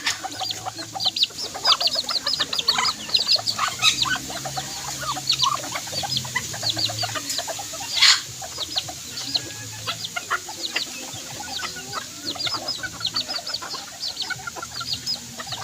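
A pure white native bantam chicken clucks with short, repeated calls close by, and other fowl chatter in the yard around it. A brief louder squawk stands out about halfway through.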